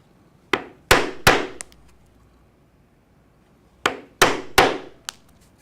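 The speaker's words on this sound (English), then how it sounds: "I'll use a 1/8 inch drive punch to punch these holes" A 1/8 inch drive punch is struck into leather in two groups of sharp mallet blows, three or four crisp hits each, separated by a quiet pause; the strikes are close and loud.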